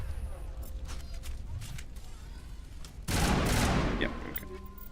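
Triple-fire Banshee weapon in the Mass Effect video game, a loud burst of gunfire from about three seconds in, preceded by quieter game ambience and mechanical noises.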